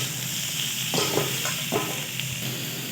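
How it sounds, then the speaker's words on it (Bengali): Prawns with ginger paste, turmeric and chili powder sizzle loudly in a pan while a spoon scrapes through them in a few uneven strokes. No voices are heard. "এটাকে আমি নাড়তে থাকবো।"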